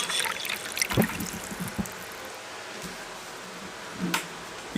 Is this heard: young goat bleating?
no